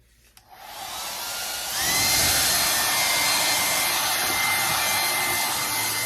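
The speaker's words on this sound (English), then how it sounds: "Now I just want to hit it again with my hair dryer." A hair dryer whirs up close, starting low after a brief click, then jumping to a louder, steady rushing blow that holds to the end.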